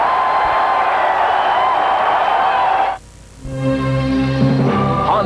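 Basketball arena crowd during a timeout at the 1989 Penn State at Rutgers A-10 Championship game, a loud roaring sustained din that drops off suddenly into a brief lull before music starts.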